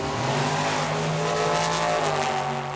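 Drag race cars, a Mustang and a dragster, launch at Tucson Dragway, with a loud, close engine roar and rising harmonic whine filling the whole stretch.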